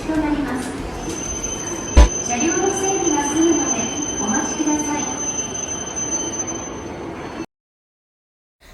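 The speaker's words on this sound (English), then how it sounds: "The Shinkansen train I were waiting is here, Ella." A Shinkansen bullet train pulls into a station platform with a steady rushing rumble and a thin high whine, one sharp clack partway through, before the sound cuts off abruptly.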